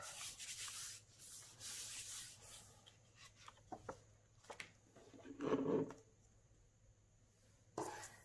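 A stamped paper piece for a Christmas card is rubbed by hand at close range, giving a faint, soft, continuous scratchy brushing under quiet room noise, with a few small taps and a brief louder scuff.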